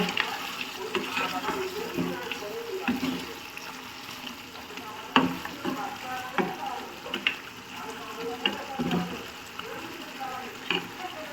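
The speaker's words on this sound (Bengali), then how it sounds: "মাঝে মাঝে ঢাকনাটা উঠে একটু নেড়ে দেব।" Country chicken curry stirred in a pot with the lid lifted, giving a continuous wet sizzle and bubbling with scraping strokes and a few clanks, fairly close.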